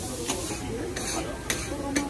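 Fried rice being stir-fried at a night market food stall in Tai Po, with spatula scrapes striking the wok every half second over a steady sizzle and busy crowd noise.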